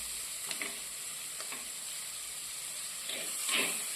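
Drumstick pieces sautéing in a pan for tuna curry give a soft, steady sizzle and hiss, with a few faint stirring scrapes rising briefly, quiet and close.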